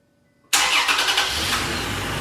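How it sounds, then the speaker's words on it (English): A Toyota Tacoma engine cranks and fires on remote start after a silent pause, catching abruptly and settling into a loud, steady idle close by with a few brief early surges. "The car starts right up."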